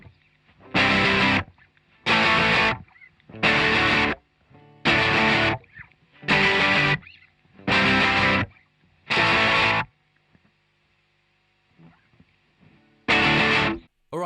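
Distorted electric guitars play a major-chord riff in unison, hammering out seven loud sustained bursts separated by short gaps, then a quiet stretch of faint noise before one more burst near the end.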